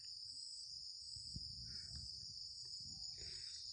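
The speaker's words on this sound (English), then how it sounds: "You can hear the murmuring sounds of the insects inside the" Insects in a jungle forest at the Triyuga Hunting Reserve keep up a steady, high, shimmering chirp that runs unbroken throughout, with faint low rustling and a few soft distant calls beneath.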